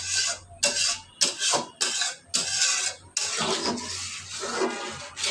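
Cornflour mixture being stirred in a pot, a spoon scraping and rasping in a series of short strokes, about eight sweeps, close and fairly quiet with no talk.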